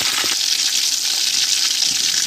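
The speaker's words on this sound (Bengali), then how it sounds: "একদম একদম কম আগুনে বেজে নেবো" Whole spices frying in a pan over very low heat for a chicken roast, a steady soft hiss and gentle sizzle throughout, close and continuous with no voices.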